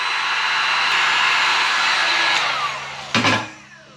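Heat gun or hair dryer blowing steadily on a sticker on a 2021 CFMOTO ZFORCE 950 Sport, a continuous close airy roar for about three seconds, then clicking off with a brief handling clatter as it winds down.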